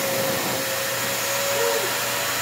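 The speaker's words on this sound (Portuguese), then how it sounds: "É assim que se aspira, Lorena." A vacuum cleaner runs steadily as it cleans a rug, making a loud, continuous whine with a constant hum and a brief shift in pitch midway.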